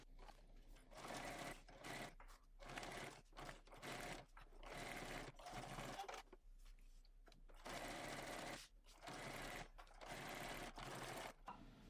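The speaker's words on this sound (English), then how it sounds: "now we're going to head to our sewing machine" A sewing machine stitching fabric seams for a bag runs in repeated bursts of steady mechanical whirring, stopping briefly between each stretch of stitching, close and clear.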